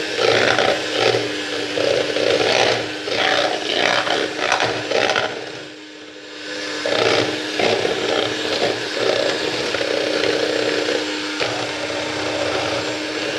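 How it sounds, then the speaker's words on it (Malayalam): Butter is beaten for cookie dough with a steady electric beater whir and a scraping mixing texture, with a brief lull midway before the whirring resumes. "ആദ്യം തന്നെ ഈ ബട്ടർ നല്ലപോലെ ഒന്ന് ബീറ്റ് ചെയ്യാം"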